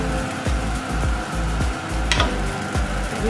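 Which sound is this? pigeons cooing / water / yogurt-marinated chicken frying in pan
yogurt-marinated chicken frying in pan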